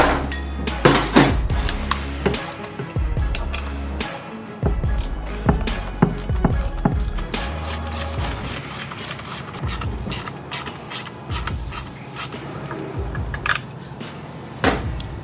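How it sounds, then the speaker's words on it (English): Half-inch bolts come off a Harley Dyna primary during a chain conversion, with a series of irregular metallic clanks, ratchet clicks and tool knocks close by, no talking. "Then we remove these two half inch bolts right here to get that out of the way."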